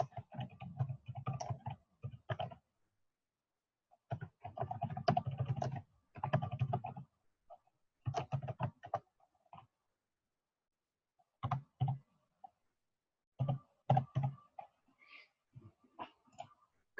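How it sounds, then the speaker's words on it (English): Building address being typed on a computer keyboard, close bursts of rapid keystrokes separated by short silent pauses. "And then we want to type in the building address."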